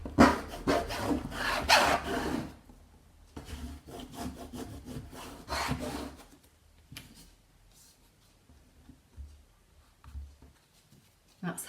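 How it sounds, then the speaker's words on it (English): Vinyl laid face down on a canvas is burnished by hand, making close, dry rubbing and scraping strokes in quick bursts with quieter gaps between them. "I'm going to put it face down and just burnish."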